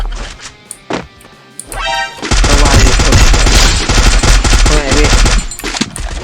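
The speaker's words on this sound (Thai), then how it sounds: "โอ้โหมันยังยิงอยู่เลย" In a shooting video game, loud, sustained automatic gunfire hammers in rapid bursts with impact cracks, after a few isolated shots; a voice talks now and then.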